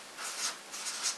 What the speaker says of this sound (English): And so I'm going to write that here on the board.